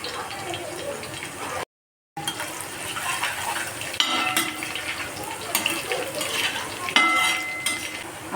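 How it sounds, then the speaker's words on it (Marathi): Crushed garlic sizzles in well-heated oil in a pan, a continuous close crackle broken by a brief dropout, with utensil scrapes and stirring knocks, and a voice talking intermittently. "ही तेल चांगले तापले. आता आपण त्यात लसूण घालून घेऊया"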